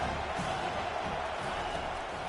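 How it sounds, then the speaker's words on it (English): Stadium crowd in a college football video game, a continuous moderate roar of murmuring and faint cheering with no distinct peaks. "This crowd bringing the energy and noise early."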